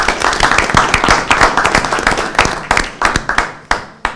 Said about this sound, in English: let's give a round of applause for everyone contributing to Arbor Day.